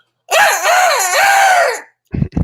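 A woman imitates a rooster crowing, a long warbling high-pitched call held for over a second, loud and close, followed by two short sharp sounds.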